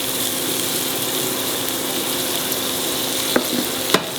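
Onions with ginger frying in a pan, a dense, even sizzle that holds steady throughout, with two brief clinks near the end.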